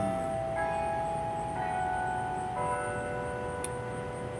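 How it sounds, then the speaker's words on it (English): A clock chiming the top of the hour, with a few steady bell-like tones struck about once a second over a constant low background hum, no voices. "there's the top of the hour bell"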